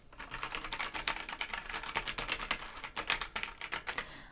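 A Razer BlackWidow Ultimate 2014 Stealth mechanical keyboard is typed on with keys bottoming out, giving a rapid, close, irregular stream of sharp clacks and clicks that runs continuously with no talking.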